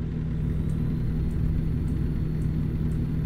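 Truck engine in American Truck Simulator, a steady low rumbling drone at constant idle-like revs, continuous and fairly loud with no talk over it.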